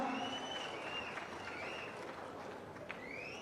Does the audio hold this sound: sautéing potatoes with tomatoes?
no